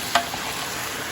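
Pork belly frying with fish sauce in a pan gives a steady, soft sizzle, with one sharp clink as it is stirred.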